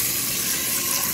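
Water poured into a pot of rice for sweet rice pudding: a steady, close rushing stream that stays even throughout, with no voices.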